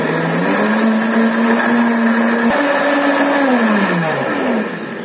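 An electric blender runs steadily, blending an iced coffee mixture with ice for about ten seconds, its motor pitch shifting slightly mid-run and dropping toward the end, loud and close with no talk.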